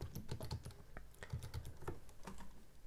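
Computer keyboard typing while writing code in the Ring programming language: quick, irregular bursts of close, crisp keystrokes with short pauses, heard alone without talk.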